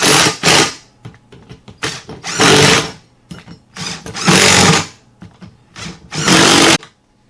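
Power drill driving and tightening bolts while assembling a Gorilla Carts hand cart, several loud close whirring bursts of one to two seconds each, separated by short pauses and light handling clatter.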